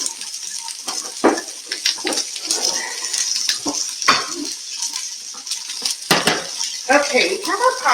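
Pasta being stirred in a pot on a home stove, with soft scraping, clinking utensil contacts and light bubbling sounds, a few sharper knocks of spoon against the pot scattered through the clip.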